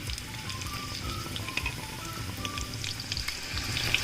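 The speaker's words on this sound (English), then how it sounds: "I'm going to fry the onions till they are golden brown." Onions and garlic frying in hot ghee make a steady close sizzle with crackling pops and light spattering, fairly even in loudness throughout, no talking.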